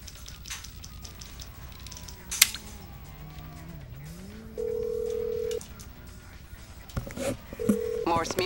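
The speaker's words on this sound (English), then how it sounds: "I'm gonna make a phone call." Phone dialing in Grand Theft Auto V, a short run of electronic keypad beeps followed by steady ringing tones, set against game ambience and low background sound.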